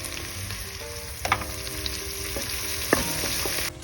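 Tomato paste frying with onions in a pot for red wine braised short ribs, a steady close sizzle broken by a few soft scrapes and clinks of stirring, no voices.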